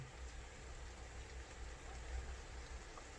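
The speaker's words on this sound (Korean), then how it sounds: "빗소리 한번 잠깐 들어볼게요" Steady rain patters down outdoors in a continuous soft wash of hiss and drips, moderately quiet and even throughout, with no voices over it.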